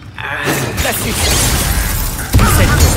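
Glacius ice spell in the Hogwarts Legacy video game, a loud shattering icy crack over dense combat noise, followed by a heavier thumping impact near the end.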